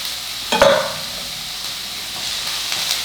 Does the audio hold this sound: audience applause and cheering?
no